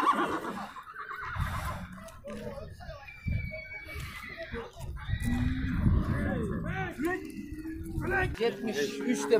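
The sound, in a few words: horse neighing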